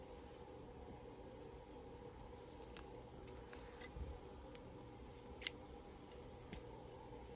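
A few quiet, close snips of scissors cutting crochet yarn, with sharp isolated clicks over a faint steady background hum.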